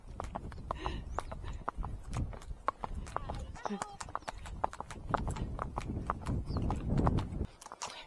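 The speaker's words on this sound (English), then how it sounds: "Apollo walk, but my God, it's not jiggling about." A horse walks at a steady pace, hooves clip-clopping in an even rhythm in a foggy outdoor setting, with a rider talking over the hoofbeats.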